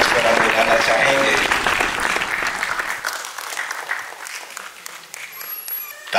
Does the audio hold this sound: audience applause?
yes